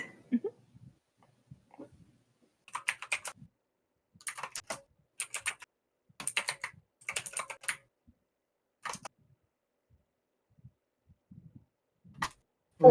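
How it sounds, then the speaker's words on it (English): A mechanical computer keyboard clatters in short bursts of quick keystrokes, close and fairly crisp, separated by pauses of near silence, with no talking. "The mechanical keyboard is very chatty."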